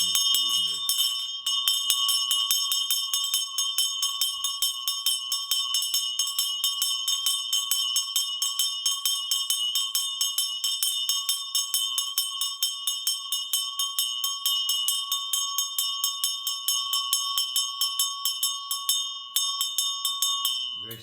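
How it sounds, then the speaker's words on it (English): Magar shamanic bells from far west Nepal, some of them tuned, jingle in a rapid, continuous shimmer, bright and ringing steadily without a break, loud and close throughout. "Some bells are tuned also, so they have a sort of sonic effect on the inner ear"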